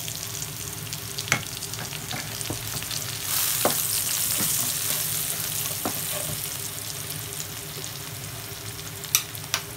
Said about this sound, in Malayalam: നമുക്ക് ഉള്ളി നന്നായിട്ട് വഴന്ന് വരുന്ന വരെ വയ്ക്കുക